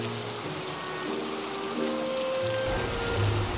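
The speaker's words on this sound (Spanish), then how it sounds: "se puso a llover con muchísimas ganas." Heavy rain falls steadily in Sardinia, a dense continuous hiss of drops striking surfaces, close and unbroken throughout with no talk.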